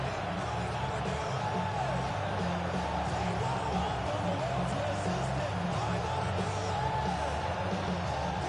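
Stadium crowd noise in a Madden football video game before a Ravens game, a dense continuous roar of many voices with scattered whoops and yells, steady throughout and somewhat under the mix.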